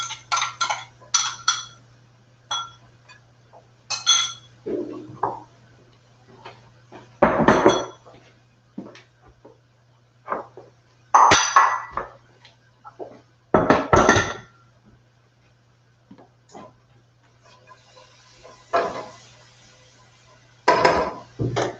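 Pre-cut onions, tomatoes and peppers tumble into a pan while cooking a meal for a large family, giving scattered clinks and clatters of utensils and cookware in bursts, with no talking.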